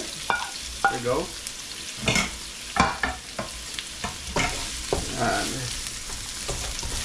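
Ginger and onion sizzle in a pan for chicken tinola, with steady frying and repeated stirring scrapes, while a voice speaks briefly.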